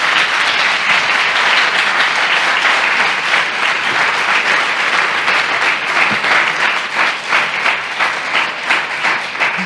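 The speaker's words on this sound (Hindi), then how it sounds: "आइए यीशु के लिए जोरदार ताली बजाएंगे" A church congregation applauds loudly at a sermon, vigorous sustained clapping that fills nearly ten seconds with a steady, energetic rhythm.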